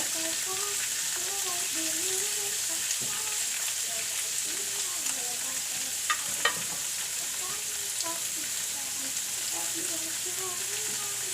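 Tofu with green and red bell peppers fries in a pan, a steady broadband sizzle running the whole time with occasional stirring clicks and a faint voice in the background.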